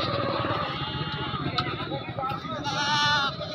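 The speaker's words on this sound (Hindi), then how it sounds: "एक ये वाला बकरा है और एक ये वाला बकरा" Goats bleating at a busy outdoor livestock market, a few wavering bleats rising over a dense crowd babble of voices and market noise.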